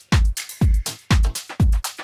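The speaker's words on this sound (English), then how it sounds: "Like a snap with a lot of reverb." Four evenly spaced snap hits from a tropical house sample, each with a long reverb tail, played alone in a chill deep house beat.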